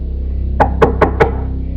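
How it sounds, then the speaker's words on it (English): Four evenly spaced, sharp knocks land on a front door, loud and close, over a steady low hum with no talking. "knocking came from the front door"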